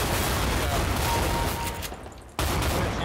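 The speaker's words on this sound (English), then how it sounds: "shotgun to the face" A shotgun fires in a CS:GO Arms Race match, a loud burst of sound followed by a short lull before another blast.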